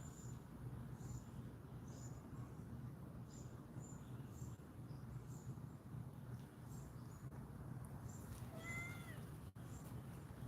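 Kittens meow faintly in a front yard against a quiet outdoor hum: a few soft, distant cries spread through the stretch, with a clearer short burst of meowing toward the end.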